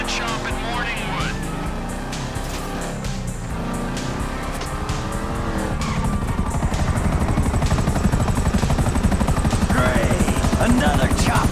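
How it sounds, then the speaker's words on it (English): Helicopter in Grand Theft Auto V: a loud, steady rotor drone mixed with car engines and tire noise, continuing throughout under overlapping speech. "Another chopper!"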